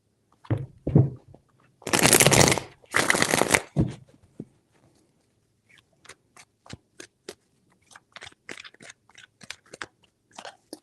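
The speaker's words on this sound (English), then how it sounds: "Three shuffles." Tarot cards being riffle-shuffled by hand: two loud, close bursts of rapid fluttering followed by many sharp, scattered taps and clicks as the deck is squared and handled.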